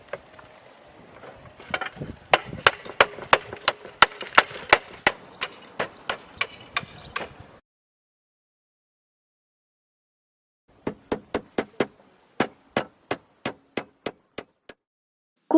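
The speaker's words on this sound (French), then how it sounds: "Procédez à la découpe de vos ardoises en utilisant un marteau de couverture et une enclume de couvreur." Roof slates being cut with a roofer's hammer against a roofer's anvil, giving rapid, sharp, ringing clacks in two runs separated by a few seconds of silence, close and loud.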